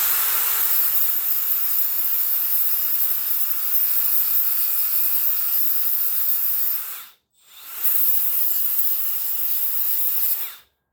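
A hissing grinder or abrasive tool works the cut metal edges of a truck cab to clean off burrs, running continuously and close with one brief pause midway.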